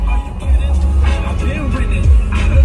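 A big-tyred Monster Safari vehicle's engine rumbles low and steady throughout, with voices talking over it close by.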